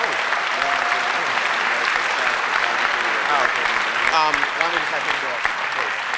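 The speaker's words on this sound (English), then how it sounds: "if you can all just give Will Wright a big round of applause and thank him for showing up." The GDC 2005 audience applauds Will Wright in a large hall, a sustained wash of many hands clapping at an even level, with scattered cheers rising briefly.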